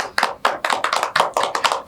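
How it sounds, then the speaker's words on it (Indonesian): Hands clap in a quick, fairly regular rhythm, about a dozen sharp, close claps in under two seconds. "Tepuk tangan dong."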